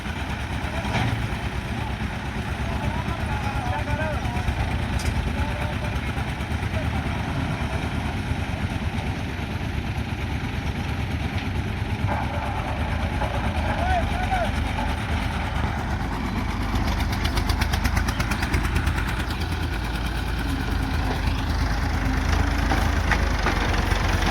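A concrete mixing machine engine runs steadily at a road construction site, a continuous loud mid-pitched idling drone that holds throughout with no pauses.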